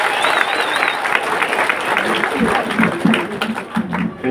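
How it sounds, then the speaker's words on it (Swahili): Audience applause welcoming a minister at a public gathering in Kirinyaga, a sustained wash of clapping from a large crowd, with a brief whistle early on and voices calling out among the claps. "Makofi tafadhali."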